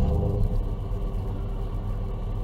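A farm vehicle engine in Farming Simulator 22 on The Valley Farm map, a steady low rumbling drone that holds at a constant level throughout, with no talking.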